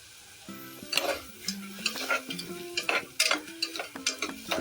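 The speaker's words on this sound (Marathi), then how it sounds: "लाल होईपर्यंत व्यवस्थित परतून घेऊया" Chickpea masala of red and green chickpeas sautéed in a pan until reddish, with a soft sizzle under irregular, close spoon scrapes and clinks against the pan, several quick strokes following one another.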